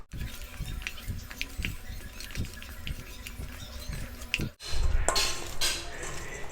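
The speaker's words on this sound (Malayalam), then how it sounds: "ഇതിലേക്ക് കഴുകി വൃത്തിയാക്കി വെച്ചിരിക്കുന്ന ചിക്കൻ ചേർത്ത് നന്നായിട്ട് മിക്സ് ചെയ്യാം" Chicken pieces are mixed with turmeric powder and salt in a metal bowl, with steady clinking and scraping of a utensil. A louder shuffling stir takes over near the end.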